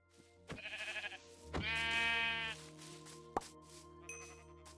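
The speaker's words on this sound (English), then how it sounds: "Sheep." Sheep in a video game bleat twice in close succession, a short wavering call followed by a longer, louder one, with a few faint game sounds after them.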